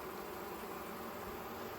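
Honeybees buzz at a hexagon observation hive while a queen cage is being worked, a soft, steady hum that stays even and quiet without any speech.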